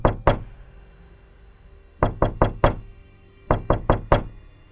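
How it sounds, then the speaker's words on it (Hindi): Someone raps on the cabin door of a train with three separate bouts of sharp knocks, first a quick pair, then four, then four again. Each knock is crisp and close and stands alone against a quiet, faintly humming background. "तभी किसी ने कैबिन का दरवाजा खटखटाया।"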